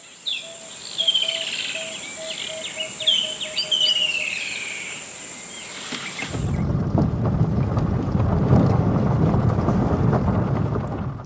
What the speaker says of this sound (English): you could hear that a storm might be brewing